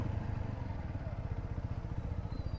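Apache 4V motorcycle idling steadily with a low, pulsing engine rumble up close while being brought to a stop and parked near a rubber dam by a bridge.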